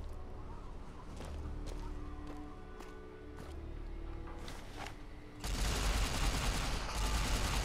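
A newly acquired weapon fires in Fallout: New Vegas Lonesome Road, a handful of sharp shots over steady game ambience, then a loud, sustained rushing burst that fills the final couple of seconds.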